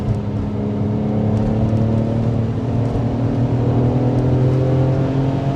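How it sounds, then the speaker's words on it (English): A Porsche 911 Carrera 996 engine roars steadily through its sports exhaust with a deep, throaty note, loud and close, holding a constant droning rev throughout. "sounds amazing, that sports exhaust, doesn't it?"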